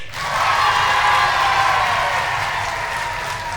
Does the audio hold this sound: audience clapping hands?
yes